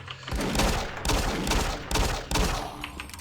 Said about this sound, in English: I'm wasting my submachine gun ammo on him